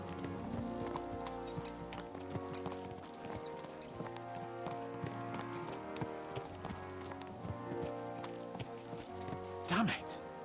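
Horses gallop in Kingdom Come: Deliverance II, rapid hoofbeats clattering in a steady rhythm under layered music and talking voices, ending with a brief whinny-like burst.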